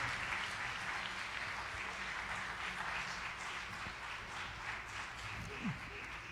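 Students at an academic lecture give a departing speaker a sustained round of applause, a soft, even patter of many hands heard from a distance at low level.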